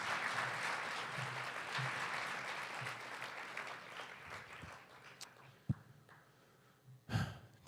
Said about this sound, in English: Let's give Ben another big round of applause.